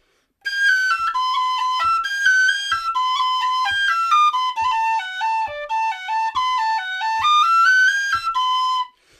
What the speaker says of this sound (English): I'll go back to the high whistle.